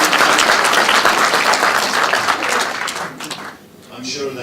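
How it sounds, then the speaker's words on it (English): Audience applause at a master class session, a dense sustained wash of clapping that fades out toward the end, with a voice speaking over it. "Let's give Lydia another round of applause."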